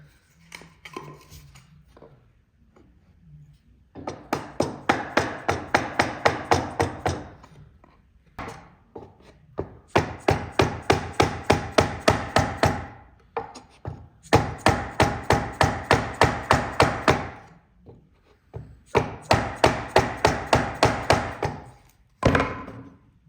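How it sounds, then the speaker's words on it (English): A square timber block is tapped against the glazing bars of a wooden front door during a glue-up, giving close, rapid bursts of hollow wooden knocks separated by short pauses. "Just tap that on the glazing bar and adjust them so they all line up."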